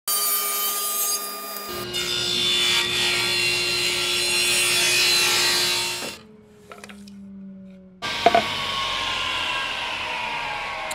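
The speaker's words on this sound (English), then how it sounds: "So we'll take and cut it on edge on a 10 degree bevel." Wood cut on edge at a 10-degree bevel for a chair: a loud, steady saw whine runs for about six seconds, stops briefly, then a second shorter cut starts with a sharp knock.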